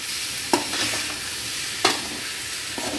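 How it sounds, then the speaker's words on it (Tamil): Tomato and shredded parotta for egg kothu parotta sauté in a hot pan, giving a soft continuous sizzle broken by two sharp utensil clacks and light stirring. "இப்போது சேர்த்து நல்லா ஒரு 2 நிமிஷம் நல்லா வதக்கிக்கலாங்க"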